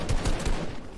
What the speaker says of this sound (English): Fox is shooting AR now